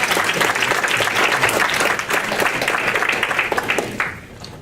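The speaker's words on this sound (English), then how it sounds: "Can we give him a big round of applause?" An audience at a village school forum on the school-to-prison pipeline gives a sustained round of applause, dense clapping that stays loud throughout before tapering off at the end.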